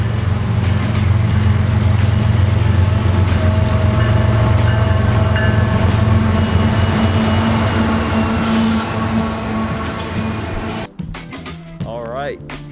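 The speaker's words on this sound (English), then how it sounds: "we just set up this shot for the train that is coming" A train rumbles past close by with a heavy, steady low roar and clattering wheels, then fades, leaving quieter sounds and a squeal near the end.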